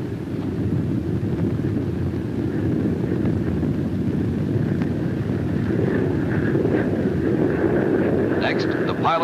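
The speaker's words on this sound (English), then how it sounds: "Since the engines are placed so close together, the plane remains steady in flight" A steady, loud jet engine drone from a 1948 McDonnell F2H Banshee US Navy fighter in flight roars continuously, with wind buffeting the microphone throughout.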